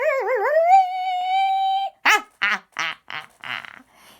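A voice imitates a terrible guitar noise blaring from a loudspeaker: a wobbling, warbling whine that settles into a long held tone, then a run of short, choppy bursts.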